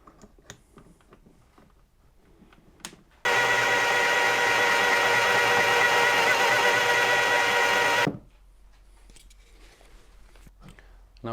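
A power drill bores an entrance hole in pallet wood for a birdhouse, whirring steadily for about five seconds, loud and close, starting and stopping abruptly with quieter handling noises around it.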